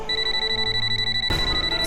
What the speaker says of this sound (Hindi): अब बजेगा मेरे फोन का अलार्म